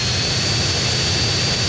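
Hydra military jet engine in GTA San Andreas, a steady loud roar with a high whine running unbroken throughout, no talking.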